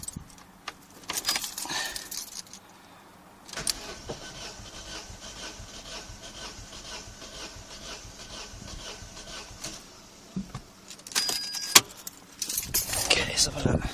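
An Astra Mk4 SXi engine cranks over on the starter for a compression test with the accelerator floored, a steady churning drone lasting about six seconds, framed by clattering handling noises before and after.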